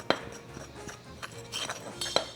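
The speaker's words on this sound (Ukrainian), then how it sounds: "Тут 100 грамчиків цукру, розпушувач 10 грамчиків. І добряче просто все це можна перемішати." Flour, sugar and baking powder are stirred together in a bowl for a banana cake batter, with faint scattered clinks and scrapes of a utensil against the bowl.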